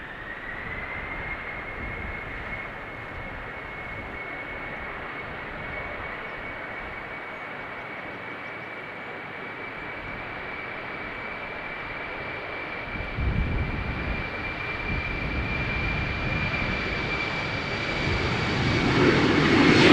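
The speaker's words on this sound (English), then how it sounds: "I think it's going to land on the Schiphol Oost runway" An airplane approaches to land on the Schiphol Oost runway at Amsterdam Schiphol Airport, a steady jet engine roar with a sustained whine that grows louder toward the end as it comes nearer.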